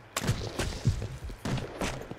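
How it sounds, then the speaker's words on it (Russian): Gunfire in the survival video game Rust, several sharp shots cracking out in an irregular burst at moderate distance, each with a short booming tail. "Это откуда выстрелы были сейчас?"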